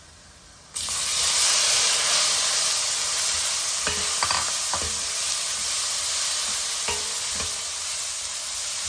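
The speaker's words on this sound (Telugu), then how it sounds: "పసుపు వేసాము ఇంకా టమాటోస్ వేస్తున్నాం" Tomatoes and turmeric drop into a hot pan and burst into a loud, steady, hissing sizzle that holds throughout, with a few light utensil taps and clinks near the middle and end.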